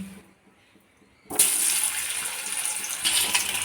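Potatoes drop into a pan of hot salted oil over a low gas flame for a dhaba-style vegetarian chhana dish. After near silence, a sudden loud, bright sizzle bursts up and hisses on steadily.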